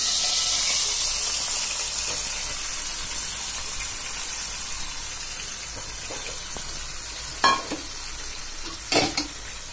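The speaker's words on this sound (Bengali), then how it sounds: "এদিকে আরেক চুলায় আমি ফলি মাছ টমেটো দিয়ে বোনা করার জন্য তেল চুলায় দিয়ে দিলাম।" Oil heating in a pan on a stove for cooking folui fish with tomato, a steady soft sizzling hiss throughout, fading slightly, with a couple of brief clinks near the end and no talk.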